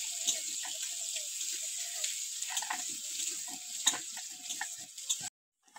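Masala with bay leaf, chopped onion and garlic sizzling in a pan for a Bengali egg curry, a steady hissing fry with soft stirring clicks, close and even, cutting off abruptly at the end.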